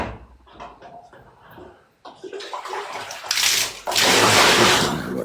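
Water is poured into a container. A few soft knocks come first, then a growing splashing gush that turns loud and continuous in the second half.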